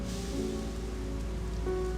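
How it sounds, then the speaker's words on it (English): Soft, steady patter of toxic rain in the Sim City 3000 video game, a faint continuous hiss with light game tones underneath. "apparently there's now toxic rain in my city"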